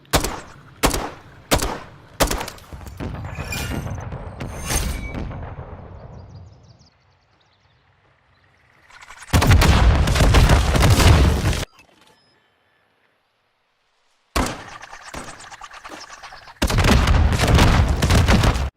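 Explosive RGL grenade launcher shots in Modern Warfare III on the Estate map: a few sharp bangs, then sustained loud bursts of booming blasts separated by quiet gaps, with no talk.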